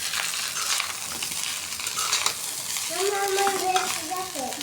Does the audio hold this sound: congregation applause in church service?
no